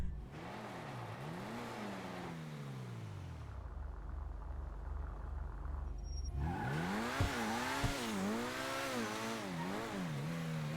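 Överflöd Tyrant supercar in GTA Online revving hard in a game engine, with rising and falling sweeps through the gears, a lull, then another run of loud, aggressive revs with sharp pops, steady and close with no talking.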